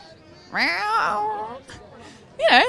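A voice actor imitates a cat, producing two drawn-out, wavering meows close to the microphone with a brief pause between them, loud and clear against a quiet background.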